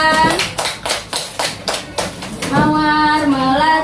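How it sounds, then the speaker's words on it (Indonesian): A classroom of children claps for a classmate named Farhan in a quick, rhythmic burst of close, loud claps, after which young voices start singing. "Ya, beri tepuk tangan untuk Farhan."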